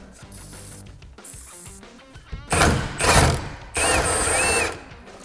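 A hand ratchet turns out a long bolt during drum brake and suspension bushing work on an old car, with quick clicking ratchet bursts followed by several loud, sustained hissing spray blasts up close.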